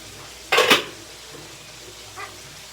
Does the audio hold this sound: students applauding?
no